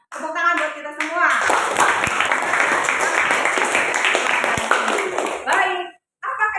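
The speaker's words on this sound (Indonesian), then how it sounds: "Tepuk tangan buat kita semua." A classroom of students applauds together in sustained, dense clapping for about five seconds, with a teacher's voice speaking briefly before the applause and again just after it ends.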